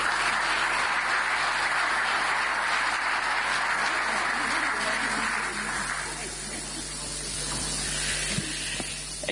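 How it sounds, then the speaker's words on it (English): Applause at the EU-African Union summit opening ceremony in Angola, a steady, hissy wash of clapping from a large hall audience that carries through most of the stretch and eases off toward the end. "Give her a warm round of applause."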